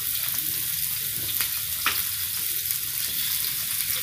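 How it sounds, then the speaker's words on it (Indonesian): Sliced shallots sizzling and frying in a pan, a steady close hiss with a few stirring scrapes, and no voices. "kita goreng dulu bawang merah yang sudah kita iris"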